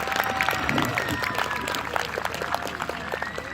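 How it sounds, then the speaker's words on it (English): An outdoor crowd at a 14th-century-style medieval tournament applauds in scattered, uneven claps, moderately loud, with some voices mixed in. "A round of applause for our marshal."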